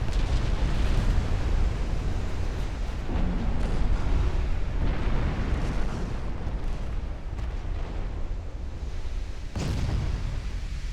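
Heavy shells hitting ships in a naval battle in Ultimate Admiral: Dreadnoughts, a continuous roar of rumbling booms and impacts with a few sharper bursts standing out, with no speech.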